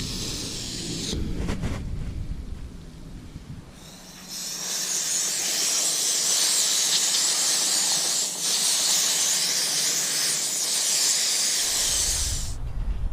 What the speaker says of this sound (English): I'm probably going to get roasted for fucking spraying the shit out of the whole engine